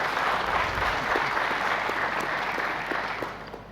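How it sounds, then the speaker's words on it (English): Sustained audience applause at a 2017 presidential running mates debate, a dense wash of clapping from a large crowd that holds steady for several seconds and then slowly tapers off. "Once again, a round of applause for Mr."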